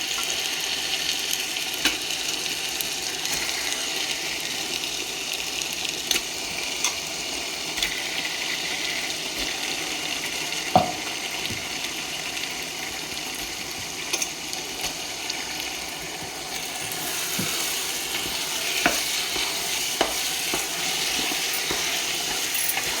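Chicken pieces sizzle in oil-separated masala in a pan for chicken biryani, a steady broad frying hiss with occasional pops and clatter that grows slightly louder near the end, with no talking.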